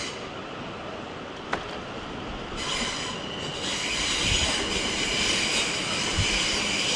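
A South Western Railway train passes through Clapham Junction in London, wheels squealing loudly on the rails with a rising hiss and a few sharp clacks, close by and without talk.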